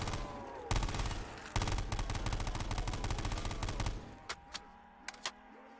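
Gunfire in a first-person shooter game map: loud sustained automatic bursts with a brief gap, then a few isolated single shots trailing off near the end, with no voices over it.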